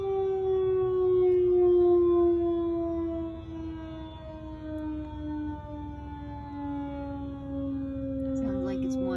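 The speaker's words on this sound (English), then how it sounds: "Sounds like it's winding down." A long tornado siren tone in Mustang slowly dropping in pitch as it winds down, steady and fairly loud, with faint voices near the end.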